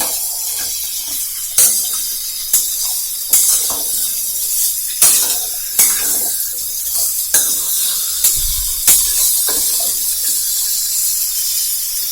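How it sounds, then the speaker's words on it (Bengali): Food fries in a pan over a high flame with a loud, continuous hiss, broken by sharp clicks and stirring knocks every second or so. "তো 5 মিনিট এখন আমি এটাকে হাই ফ্লেমে ভেজে নিচ্ছি একটু"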